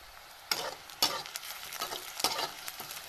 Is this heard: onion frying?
yes